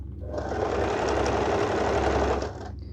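A sewing machine stitches a border strip onto a kurti, running in a steady fast rhythmic chatter for about two seconds before stopping.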